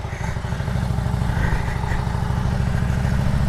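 A motorcycle pulls out of a barbecue joint's lot onto a rough road, engine chugging in a steady low pulse with clatter from the bumpy surface, close and fairly loud throughout.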